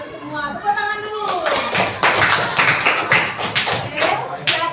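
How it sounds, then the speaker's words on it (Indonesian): A class claps along in a classroom, starting after a short stretch of speech and turning into a loud, fairly brisk run of overlapping claps that continues to the end. "Tepuk tangan dulu"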